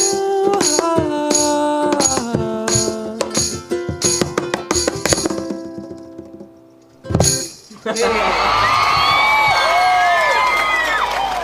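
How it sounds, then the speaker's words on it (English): An audience bursts into loud applause and cheering with whoops, rising suddenly after a stretch of ringing, clinking musical tones and a brief pause, then staying strong and continuous to the end. "Don't worry, that's my third applause."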